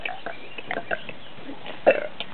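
A person burps amid soft voices and murmuring at a lakehouse gathering, with a louder, deeper belch standing out near the end.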